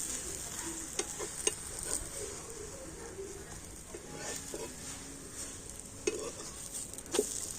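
Palm-fruit chakli pitha fries in a frying pan with a soft, steady sizzle and a few light clicks of a utensil stirring, quiet and close with no talking.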